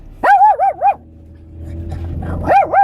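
A dog barks in close, loud bursts: a quick run of three yelping barks, a pause filled with low whining and background noise, then two more barks.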